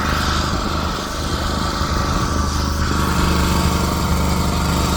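A small gasoline generator runs steadily close by, its light engine holding a constant buzzing drone with a slight dip near the first second, no voices over it.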